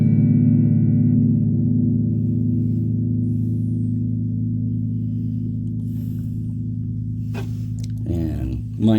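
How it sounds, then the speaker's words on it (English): Electric guitar run through a reverb effect, a chord ringing out in a long, smooth, spacious sustain that slowly fades before a brief scrape of handling noise at the end. "Then it's got a reverb section, which will make it a bigger sound."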